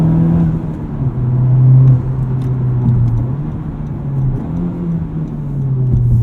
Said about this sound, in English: The rev match downshift system works great.